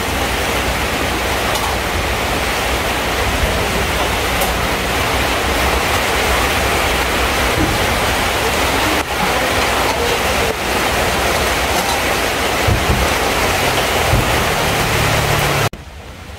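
Heavy rain pouring over a backyard vegetable and fruit garden, a dense, steady roar of rainfall that fills the whole stretch without letup and only eases in the last moment.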